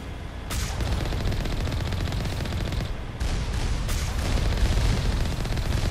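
Turrets in Mass Effect fire rapid, dense bursts of gunfire that continue almost without pause, loud and close, with short breaks between volleys.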